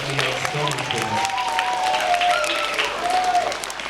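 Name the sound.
audience applause for school chorus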